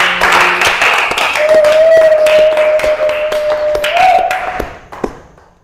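A congregation claps together during a French-language prayer session, dense rhythmic applause filling the room alongside a sustained tone, with a voice speaking over it before the clapping fades out.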